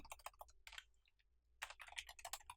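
Quick bursts of typing on a computer keyboard while entering a Python command on a Mac, close and clear, in two rapid clusters separated by a short pause.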